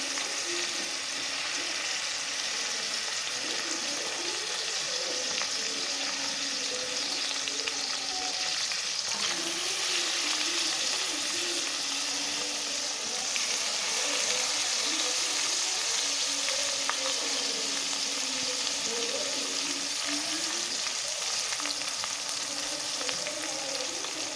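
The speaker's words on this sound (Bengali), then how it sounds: "সেই চালটা এবার আমি এখানে দিয়ে দিচ্ছি কড়ার মধ্যে" Rice sizzles and fries steadily in a hot wok while chicken tehari is being cooked, a dense continuous crackle with occasional stirring, close and fairly loud, with no talk.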